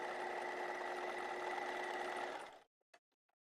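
Sewing machine stay stitching along fabric, a loud steady close motor whir running for about two and a half seconds and then stopping, followed by a few faint clicks, with no talk.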